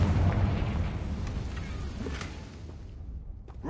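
The Confringo fire spell exploding in Hogwarts Legacy, a heavy rumbling blast that rolls on and slowly fades away.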